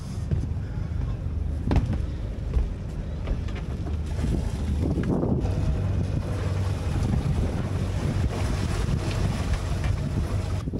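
Strong wind roars across a sailing yacht at sea just after the anchor is raised, a steady loud rush with buffeting on the microphone and wave noise underneath.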